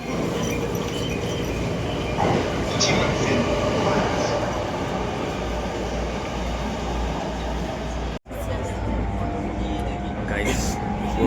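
Crowded commuter train riding in Japan with passengers standing, a steady loud rumble of the carriage and wheels filling the whole stretch, a brief dropout near the end, and voices talking faintly underneath.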